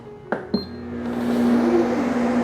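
GREENIS smart cooking machine with lid closed begins stir-frying shiitake mushrooms: two quick clicks, then a steady rising hum of the motor and heating element with faint sizzling, close and continuous.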